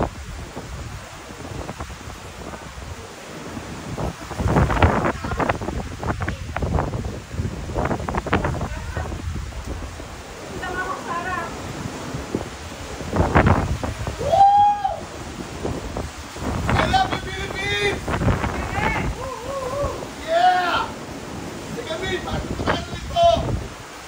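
Steady wind rushes and buffets across the microphone on a boat trip in Ilocos, with water and engine noise underneath and people talking over it throughout.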